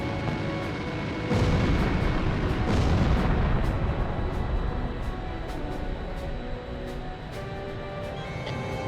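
A missile launches in the jet combat game Ace Combat Zero, a sudden loud whooshing roar that swells, then trails off under steady engine drone and game radio chatter.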